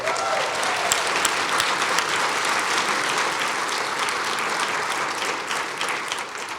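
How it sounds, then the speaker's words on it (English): Sustained applause from a sizable audience at a State of the City address, dense and steady throughout with no talking over it. "I would like to get one more round of applause for our speakers today, Mayor Houston, Superintendent Cardona, and"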